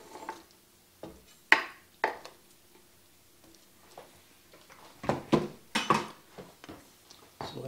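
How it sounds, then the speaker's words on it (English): Utensil scraping and tapping against a pan while chopped green onions and red and green peppers are stirred into a pepper steak stir fry, a series of irregular clattering knocks and scrapes, louder bursts toward the end. "So let me stir these in a little bit"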